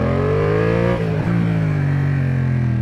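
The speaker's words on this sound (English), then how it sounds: "as is tradition with a MT07 XSR 700, as soon as you take off in first, gotta roll on the throttle" A Yamaha MT07 XSR 700 motorcycle pulls away in first gear, its engine note rising steadily under an open throttle, close and loud, with a brief dip near the one-second mark before it climbs again.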